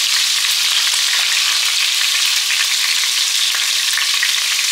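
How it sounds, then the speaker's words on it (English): Food sizzles and crackles steadily in a hot pan, a dense continuous hiss close by with no voices. "Sizzle, sizzle."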